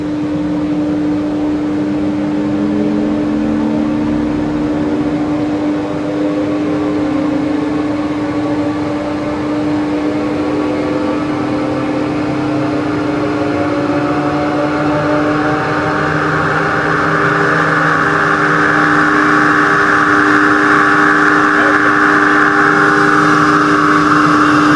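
An electric-motor model vehicle, the second in a line on a track, revs with a steady whine whose pitch climbs and grows brighter over time, loud and continuous under a constant motor hum.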